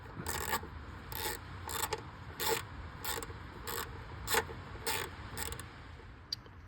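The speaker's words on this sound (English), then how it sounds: "Looks like I can get in there with a 12-inch extension on my 1/4-inch drive ratchet." A 1/4-inch drive ratchet on a 12-inch extension working a bolt during a water pump and timing job on a 2011-19 Ford Explorer 3.5, producing a steady run of about ten evenly spaced ratcheting clicks, close and moderately loud.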